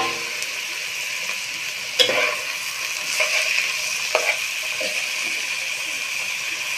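Green chilies and bathua greens fry in a pan with garlic, giving a steady hiss with a few spoon scrapes and clatters close by.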